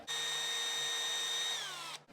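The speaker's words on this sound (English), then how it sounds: "we've got some jet drills. We're going to make them bigger." A small jet drill bores out carburettor fuel jets for a Ford Pinto 32/36 carb, giving a steady, close, high whine for about two seconds that dips in pitch just before it stops.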